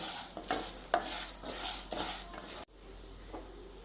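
A spatula scrapes and stirs through vermicelli frying in ghee in a pan under a steady sizzle, then the stirring stops abruptly and a quieter sizzle remains.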